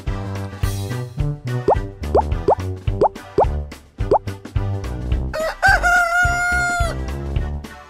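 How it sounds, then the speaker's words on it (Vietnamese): A rooster crows loudly near the end, a long drawn-out call over bouncy children's music with repeated plopping notes throughout. "thấy trời sáng gà gáy ó o đua nhau gà gáy"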